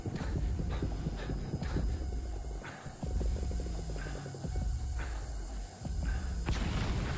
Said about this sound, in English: Hello, horse.